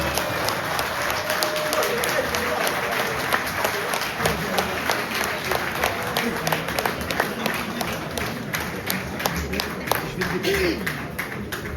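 Steady applause from an audience in a hall as a guest is called onto the stage, with distinct individual claps, some nearby, and scattered voices and movement underneath.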